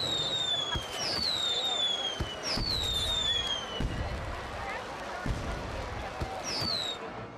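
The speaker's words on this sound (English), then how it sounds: "Fireworks." Fireworks launch in the theme-park game Roller Coaster Tycoon World: several rising whistles each end in sharp bangs and crackles, repeating steadily through the clip over a continuous background hum.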